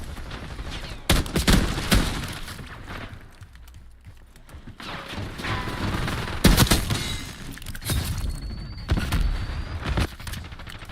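Pistol gunfire in a Call of Duty match, sharp shots fired in irregular bursts with several loud cracks and quieter gaps between, game sounds in the background.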